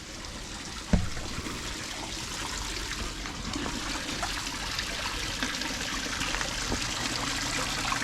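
Water runs in a steady, close trickle from an opened valve during winterizing after a brief knock near the start, continuing evenly throughout.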